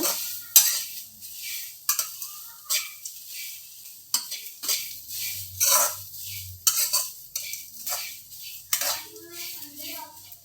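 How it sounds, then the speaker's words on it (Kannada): Masala dry-roasting in a pan is stirred with a metal spoon, giving repeated close scraping and clinking strokes in an uneven rhythm over a soft sizzle. "ಈಗ ಹಸಿ ವಾಸನೆ ಹೋಗೋವರೆಗೂ ಹುರ್ಕೊಳ್ಳೋಣ"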